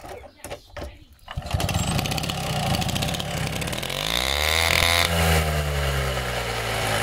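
A Vespino ALX moped engine revs up, its pitch rising smoothly as the centrifugal clutch engages, then holds a loud steady buzz; voices talk briefly at the start.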